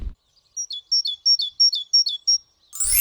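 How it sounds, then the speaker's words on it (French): A common blackbird sings a fluty, warbling phrase of about seven clear rising and falling notes in a steady run, fairly close and alone, with brief rustling noise before and after. "C'est un oiseau qui module des jolies phrases très très flûtées"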